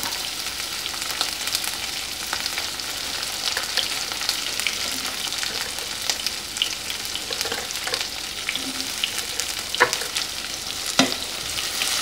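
Papaya leaves stir-fried with anchovies, bird's eye chili, green chili and tomato, sizzling steadily in the pan with occasional sharp scrapes and clinks of the spatula as the mix is tossed.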